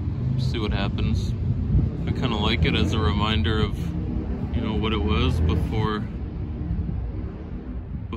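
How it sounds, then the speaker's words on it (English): A motorcycle passes through a residential neighborhood during outdoor winter pruning of deciduous trees. Its low, steady engine rumble sits in the background under someone talking. "Sorry about the motorcycle noise."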